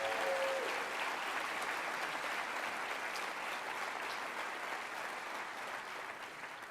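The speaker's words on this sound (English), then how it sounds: "Let's give a round of applause if we can." Faint, distant audience applause during a city address, steady clapping from a large room that gradually tapers off.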